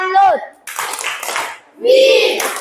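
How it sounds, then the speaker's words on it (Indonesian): Short bursts of clapping from teachers and a class at the close of a lesson, broken up by chanted words of a clapping routine. "mari kita beri aplaus untuk semua yang sudah merefleksikan pembelajaran hari ini"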